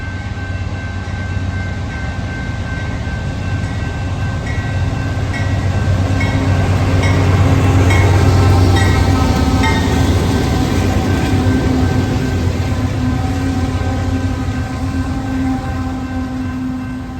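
Union Pacific freight train MSSAL rolls past on the Altoona Sub mainline at Oakdale, Minnesota: a loud, sustained rumble of locomotives and freight cars with steady wheel clatter, swelling as it passes close and easing slightly toward the end.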